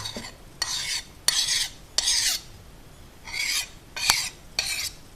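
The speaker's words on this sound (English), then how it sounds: "As you can hear, the file is skating." Metal file rasping and skidding across hardened steel from a farrier rasp being made into a Bowie knife, heard as six short scraping strokes with brief pauses between them, close and fairly loud, with no voices.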